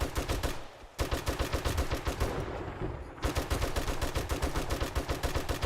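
Rapid automatic gunfire in 7 Days to Die rattles in a fast, even stream, loud and close, pausing briefly before the sustained burst resumes.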